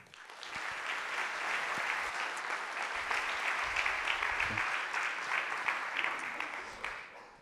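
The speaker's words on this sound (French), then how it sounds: "On peut applaudir." A conference audience at a front-end development talk breaks into sustained, even applause, a dense wash of clapping from many hands that holds steady for several seconds with faint voices mixed in before tapering off.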